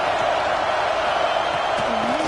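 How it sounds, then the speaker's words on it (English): A football stadium crowd roars loudly and continuously during a game, a dense, steady wall of cheering noise. "This crowd bringing the energy and noise early."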